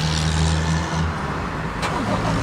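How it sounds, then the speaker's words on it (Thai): A Toyota Revo Rocco 2020 pickup engine is started after a clutch-and-brake lock is released, with a steady low engine rumble running close and loud for the short stretch. "ดี๋ยวเราลองสตาร์ทให้ดูอีกทีนะครับ"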